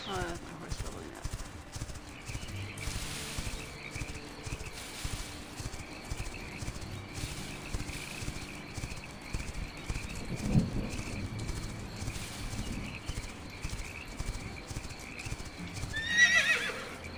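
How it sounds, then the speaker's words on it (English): Horse hooves clip-clop in a steady trotting rhythm in the video game Quinfall, with a neigh near the end and faint birdsong in the background. "Oh, that's my horse filling up."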